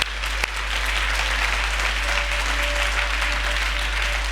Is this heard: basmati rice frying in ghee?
no